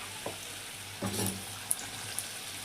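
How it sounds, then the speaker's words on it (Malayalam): Cutlets sizzling in hot oil in a home kitchen while a Ramadan iftar snack is cooked, a soft, steady hiss with a few faint pops and light clinks, quiet and without speech. "നമ്മൾ കട്ട്ലേറ്റ് പൊരിച്ചെടുക്കാനുള്ള പരിപാടിയാണ്"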